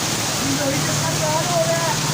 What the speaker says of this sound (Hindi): तो बड़ी कमाल की बारिश है यार।